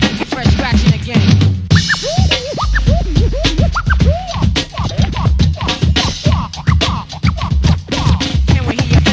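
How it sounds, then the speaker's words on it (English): A DJ scratches a record on a turntable over a hip-hop beat from a 1988 track, with loud rapid back-and-forth swipes repeating throughout. "Can we hear your funky fresh scratching again?"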